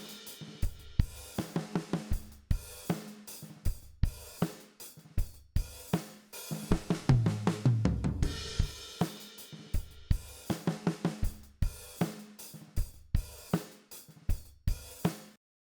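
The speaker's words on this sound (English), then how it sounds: "So half of what you're hearing is a really overly compressed drum set." A parallel-compressed drum set plays a steady groove, punchy kick and snare hits in regular rhythm with cymbals, a busier fill midway, clear and alone with no talking.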